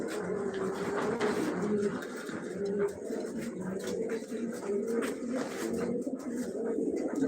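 Pet pigeons coo steadily and close by, in low, repeated throaty phrases that run through the whole stretch, with murmuring human voices in the background.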